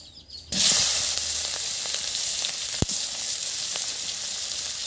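Chopped onion hitting hot oil tempered with five-spice, bay leaf and dry red chilli, left from frying fish: a sudden loud burst of sizzling that settles into a steady fry, with one sharp utensil tap midway.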